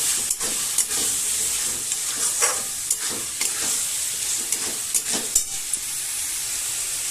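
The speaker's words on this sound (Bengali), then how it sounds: "এই মশলাটার মধ্যে আমি ছোট ছোট আলু দিয়ে দেব" Small potatoes go into spice paste frying for chicken curry: loud steady sizzle and hiss with repeated scraping stirs of the utensil throughout, close up, no speech.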